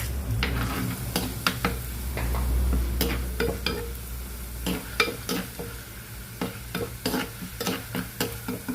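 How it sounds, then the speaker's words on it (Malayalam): Green chilli, ginger and garlic sizzle steadily in hot oil while a utensil scrapes and stirs the pan in sharp, irregular strokes, close up. "നമ്മുടെ പച്ചമുളകും ഇഞ്ചിയും വെളുത്തുള്ളിയൊക്കെ വരണ്ട് വന്നിട്ടുണ്ട്"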